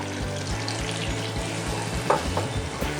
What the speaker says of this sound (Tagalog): Pwede na yung ating sibuyas. Ilagay na natin yung garlic.